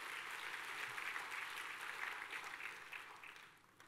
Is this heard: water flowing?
no